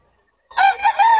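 A young rooster (stag) crows once, close and loud, after brief silence; a short, strained, wavering call.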